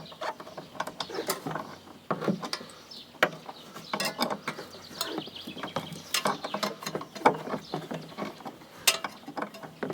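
A socket ratchet works loose a nut holding the transmission lever on a Honda walk-behind mower, giving rapid, close clicking bursts and small metallic knocks in uneven runs, with no talk.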